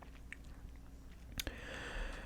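Someone chews a cough drop close to the microphone, a quiet run of soft crunches and mouth sounds with one sharper bite near the end and no speech.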